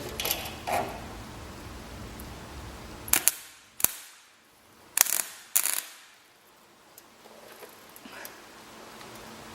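Spot welding on a fabricated sheet metal panel gives several short, sharp crackling bursts, some in quick pairs, separated by quieter background noise.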